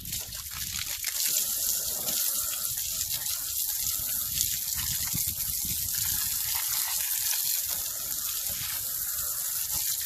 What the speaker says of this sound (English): After that, you just rinse them off.